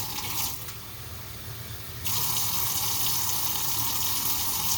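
Water runs from a kitchen tap into a sample container, a soft trickle that swells into a louder steady gush partway through, close and continuous with no talking.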